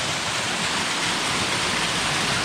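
Tannery Falls in Massachusetts roars up close as a dense, steady rush of falling water, loud and unbroken throughout.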